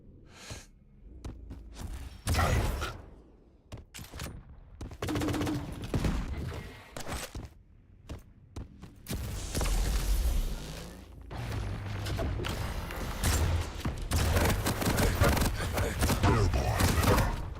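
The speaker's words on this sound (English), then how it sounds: "Ooh, great rockets from Stone." Rocket launcher fire and explosions from the arena shooter Quake Champions, with repeated booming blasts and rapid gunfire bursts in a dense, loud, chaotic mix.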